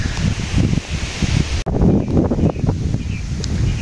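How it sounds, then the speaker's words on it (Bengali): Wind blows through trees in a rural village during light drizzle. Leaves rustle loudly and continuously with gusty buffeting on the microphone, and no one speaks. "বাতাস আছে ভালো।"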